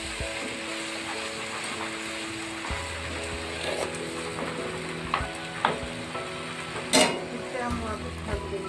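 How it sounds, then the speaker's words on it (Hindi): Papaya curry with salt frying in a pan, a steady sizzle running throughout with occasional stirring clinks and scrapes, one sharper clatter near the end, and a person talking faintly over the cooking. "एक मिनट भूनेंगे।"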